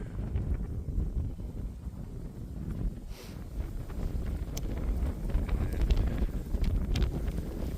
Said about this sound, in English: It's another windy day today